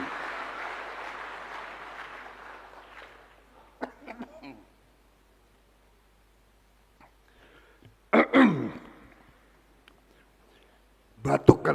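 A man coughs in short bursts during a speech, a couple of harsh coughs around the middle and another at the end, with some talk at the start.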